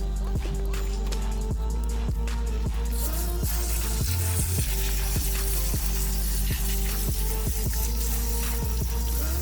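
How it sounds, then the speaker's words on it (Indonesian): Water pours over the roots of an aglaonema plant as old growing medium is rinsed away, giving a continuous splashing hiss with small drips and knocks, close by with no talk. "Kita siram sampai bersih nih, sampai media-medianya hilang"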